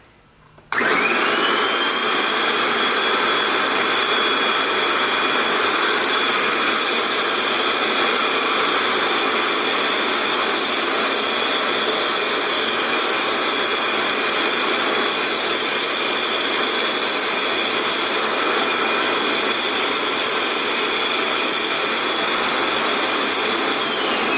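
Kirby vacuum running with its portable sprayer attachment, starting abruptly and then holding a loud, steady high-pitched whine and roar throughout, with no voices.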